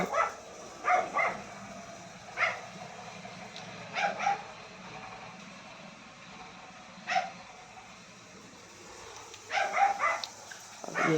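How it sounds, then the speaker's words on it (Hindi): Dogs at a home with a small flower garden give short, sharp barks in scattered bursts, singly and in quick pairs, with quiet stretches between them at moderate distance. "मेरा कुत्ता सब है वो बोल रहा है"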